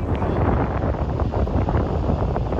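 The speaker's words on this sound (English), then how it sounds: "That's how windy it is" Strong wind buffets the microphone on a beach during a king tide and nor'easter storm, a loud, continuous roar with gusty rumble and possible surf underneath, no talking.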